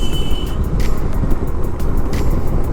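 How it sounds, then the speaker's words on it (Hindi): Busy road traffic in Sikkim, with cars and other vehicles rumbling close by in a loud, continuous wash of engine and tyre noise, a brief tonal note near the start, and no voices. "Too much traffic everywhere."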